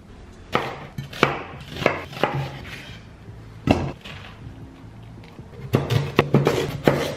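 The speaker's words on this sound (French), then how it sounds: "Chaque extrémité, on le coupe en deux." Knife chopping through vegetables on a cutting board in a home kitchen, sharp irregular thuds in short bursts with pauses between, close and fairly loud.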